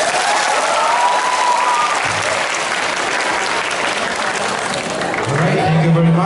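Audience applause for the debaters at the close of a Lantugi 2015 debate, a loud, dense, steady clapping that fills the hall for the full stretch, with faint voices and a brief tone rising near the end.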